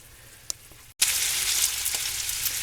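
Canned chicken legs and thighs browning in a pan, a steady loud sizzle and crackle of frying that begins abruptly after a near-silent second and continues evenly, with a faint clink early on.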